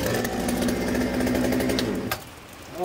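An old, roughly 25-year-old saw on a portable sawmill runs with a loud, close, rattling engine drone that cuts off abruptly near the end.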